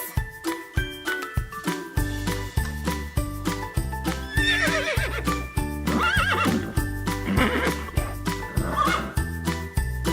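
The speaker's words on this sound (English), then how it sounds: "It was the horse!" Horse neighing in a children's farm animal sound game, a loud whinny rising over steady clip-clop hoofbeats and a jingling musical backing.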